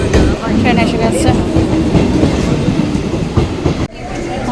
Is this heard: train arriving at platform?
yes